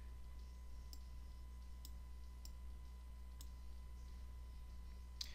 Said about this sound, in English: I'm just going to use my arrow keys.